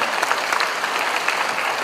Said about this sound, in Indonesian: Tepuk tangan dulu untuk Pak Bambang.